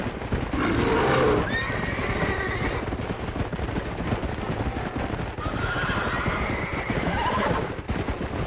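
Two drawn-out horse whinnies, a few seconds apart, ring out over a bed of hoof clip-clops and faint gunfire in the Red Dead Redemption video game.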